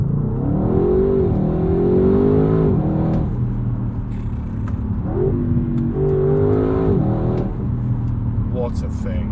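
A 2022 Audi RS6 Avant's engine, heard from the cabin with enhanced engine noise, rises in two strong revving pulls, each a deep climbing growl that eases off, loud and close.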